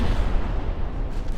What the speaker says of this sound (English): Torpedo detonation. A good hit on the enemy battleship.